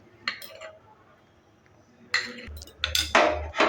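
A rice flour and milk mixture is stirred in a pan, with a few short metallic scrapes and clinks of the utensil against the pan amid quiet stretches.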